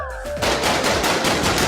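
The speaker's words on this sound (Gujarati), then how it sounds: "હા હું તને હાથમાં ફટાકડો ફોડીને બતાડું" A handheld Diwali firecracker bursts with one sharp, loud crack, followed by a brief ringing, noisy tail.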